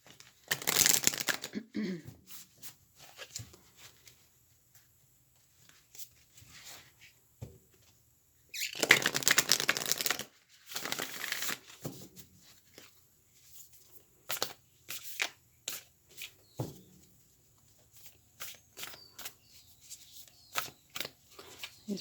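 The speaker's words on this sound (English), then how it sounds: "These are just a little bit difficult to shuffle." Tarot cards being shuffled by hand, with a few loud riffling bursts near the start and around the middle, then lighter scattered handling sounds and soft clicks, close and alone.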